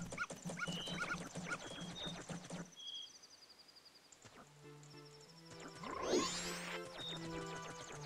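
A dog in The Legend of Zelda: Majora's Mask barks in short repeated yaps over game music and chimes, fairly faint, with a brief quiet gap midway.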